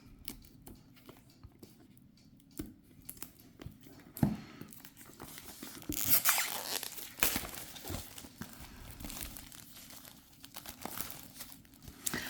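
Fingernails tear open the plastic wrapping on a Prisma Visions tarot deck, quiet close crinkling and ripping with scattered sharp snaps, growing busier partway through, and no speech.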